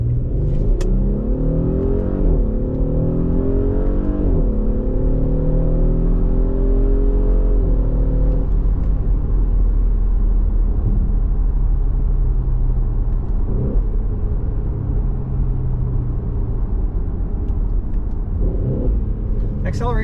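A 2019 Audi SQ5 SUV engine rumbles and pulls as the vehicle accelerates, heard from inside the cabin with rising and shifting engine tones, loud and steady throughout.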